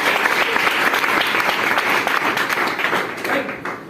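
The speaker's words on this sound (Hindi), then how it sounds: "मैडम के लिए ताली होना चाहिए।" An indoor audience applauds a madam at a talk, steady loud clapping from a crowd that tapers slightly toward the end.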